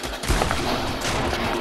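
A dense burst of rapid gunfire in the Fortnite video game, a loud, continuous crackling volley lasting about a second and a half without any talk.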